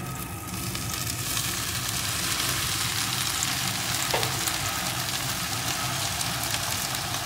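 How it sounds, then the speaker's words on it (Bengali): Red amaranth greens (laal saag) sizzle steadily as they hit a pan of hot oil with garlic and onion, a close, dense frying hiss that stays even throughout. "শাকটাকে ঢেলে দেব।"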